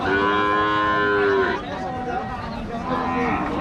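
A Sahiwal cow lets out a loud, drawn-out moo close by at a cattle market, followed by quieter murmuring voices and crowd noise.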